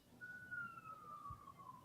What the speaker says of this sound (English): Whose sirens are those?